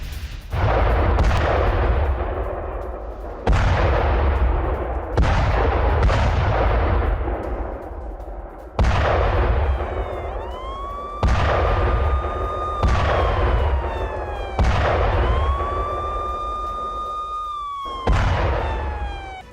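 Artillery and gunfire from fighting in Kupiansk, Ukraine, loud booming blasts repeating every couple of seconds, each with a decaying rumble, while a wailing siren rises and falls in the middle section.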